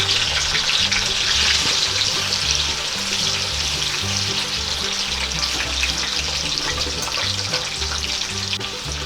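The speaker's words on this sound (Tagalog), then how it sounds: "Ayan na po yung ating second batch ng kamote cube na lulutuin pa po namin." Sweet potato cubes fry in hot oil in a pan, a dense steady sizzle running loud and unbroken throughout with faint stirring clatter underneath.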